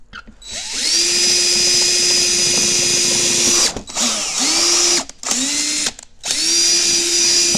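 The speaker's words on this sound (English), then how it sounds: "So we're gonna drill these out. I just have again a 3/16 drill bit." A power drill with a 3/16-inch bit whines steadily at close range, then runs in several short bursts with brief pauses as it starts and stops.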